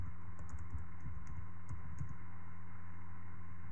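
Typing a formula into an Excel cell on a computer keyboard: a quick run of close, light key clicks over a low steady hum, then quiet, with no talk.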